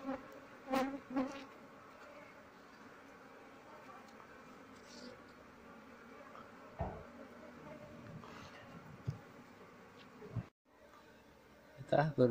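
A steady, dense buzzing of many Asian honey bees (Apis cerana) fills the whole clip, close by, with a few soft knocks and handling sounds breaking in.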